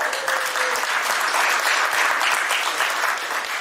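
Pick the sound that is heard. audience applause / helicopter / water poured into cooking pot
audience applause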